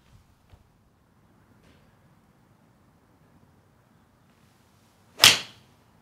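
A single sharp strike of a Callaway Rogue X golf iron on the ball cracks out near the end after quiet outdoor background, loud and brief with a short fading tail.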